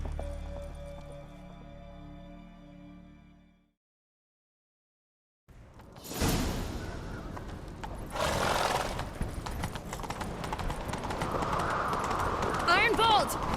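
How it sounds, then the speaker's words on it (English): A horse in The Witcher 3: Wild Hunt. Steady drumming hoofbeats and a whinny begin after a long silent gap and continue to the end with game noise. "Grab a horse, we'll chase him down."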